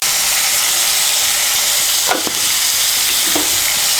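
Thin-cut potato strips tossed with salt and turmeric fry in hot oil, giving a loud, close, steady sizzle with a couple of quick stirring scrapes partway through; no one talks.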